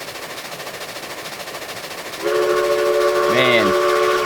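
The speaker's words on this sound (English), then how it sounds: "Hit the whistle?" A locomotive whistle blows in the Railroads Online video game on a coal railroad, a loud sustained multi-tone blast starting midway and swelling, over steady engine rumble, with someone briefly speaking.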